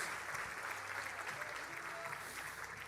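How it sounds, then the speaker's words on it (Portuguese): Church congregation applauding during an Assembly of God sermon, a dense, steady wash of clapping that is faint and distant throughout. "Você pode dar um aplauso ao Senhor?"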